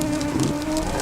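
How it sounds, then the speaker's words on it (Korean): Swarm of mosquitoes in the summer tundra, a steady droning buzz with a faint whine over a constant hiss, continuous and fairly close with no talk. "겨울의 추위만큼이나 무서운 것은 여름의 모기떼다."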